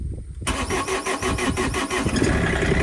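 A diesel machine engine, just drained of gasoline, fitted with new filters and refilled with diesel, cranks briefly and catches, settling into a loud, pulsing, rough idle close by without any voices.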